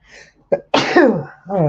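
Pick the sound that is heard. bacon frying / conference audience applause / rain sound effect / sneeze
sneeze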